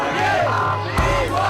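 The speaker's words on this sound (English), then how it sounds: "In Cairo, Egypt, the crowds are shouting and screaming." Dense crowd in Cairo, Egypt, shouting and screaming together, a loud sustained roar of many voices with rising yells and whoops throughout.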